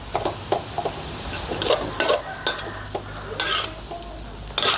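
Dried chilies and sugar being stir-fried in a pan: a soft sizzle under irregular scraping and tapping of a spatula against the pan, close by, with no talking.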